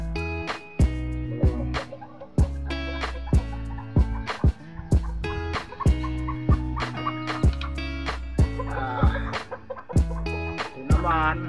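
Serama bantam chickens, a rooster and a hen, give repeated close clucks and short sharp calls in an uneven rhythm, with a few louder squawks toward the end.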